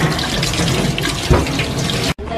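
Tap water runs steadily into a sink while food is rinsed before snacking, a continuous close splashing flow that cuts off abruptly near the end.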